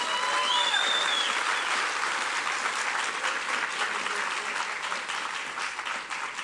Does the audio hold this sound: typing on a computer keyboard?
no